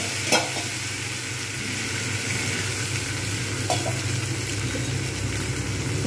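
Spice paste fries with browned onions in a pan, a continuous dense sizzle with occasional clacks from a utensil stirring, close and steady throughout with no voices.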